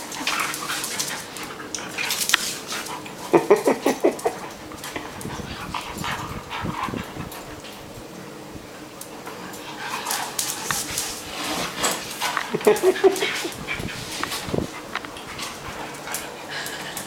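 Two big dogs play together indoors, with scattered yips, whimpers and soft play noises coming in bursts over a steady background hum, a few louder clusters around the middle and later.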